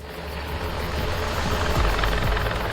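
A steady, low rumbling roar of helicopters continues throughout, fairly loud and constant with a thudding low end, no voices.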